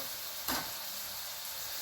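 A pork shoulder blade steak fries in butter in a pan, sizzling with a constant hiss and one brief louder spit of steam midway, heard alone without talk.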